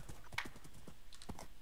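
Horse hooves clip-clop in quick uneven beats during a Minecraft horse race, fairly close and crisp, with a short whinny-like accent near the start and no speech.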